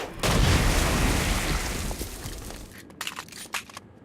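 Stone Blast power shattering petrified demons in a video game, a heavy booming blast with a rumbling decay followed by several sharp, crackling pops and bursts toward the end.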